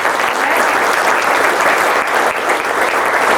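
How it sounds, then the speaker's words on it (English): Audience clapping at a groundbreaking ceremony for a studio building, a dense, even burst of applause from many hands, loud and sustained for the whole span with no talk over it. "There's going to be a lot of clapping today."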